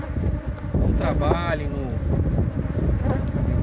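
Honey bees buzz steadily around an open beehive box with a honey super during honey harvesting, a constant close drone beneath someone speaking in Portuguese.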